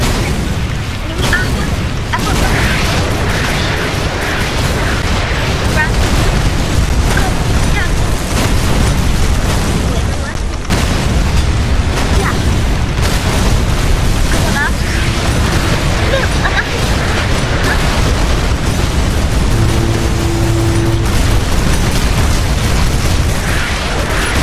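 Heavy cruiser cannons fire in a Roblox battleship game, producing a dense, loud, continuous rumble of booming blasts and mechanical noise with brief tonal bursts and faint voices.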